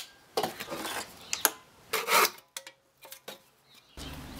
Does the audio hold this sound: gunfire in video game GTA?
no